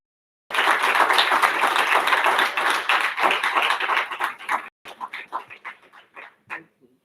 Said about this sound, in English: Please welcome her with a thunderous applause.